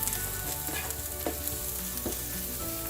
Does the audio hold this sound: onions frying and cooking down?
yes